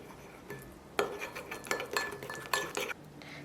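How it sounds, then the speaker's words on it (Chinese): A utensil stirs flour and cooked oil together in a bowl to make an oil paste, producing light scraping clinks against the bowl in an irregular run of taps, close and fairly quiet, with no speech. "碗中放入2小勺面粉，加入2勺熟油，搅拌均匀"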